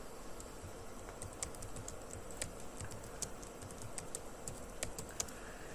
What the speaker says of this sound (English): I just typed in Android Studio shortcuts.